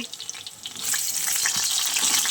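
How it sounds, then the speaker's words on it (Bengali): Eggplant sizzles as it fries in a pan in a home kitchen, a faint crackle at first that swells into a loud, steady hiss, with no talking. "এখানে দেখো বেগুনটা ভাজি, বেগুন দিয়ে রান্না করব"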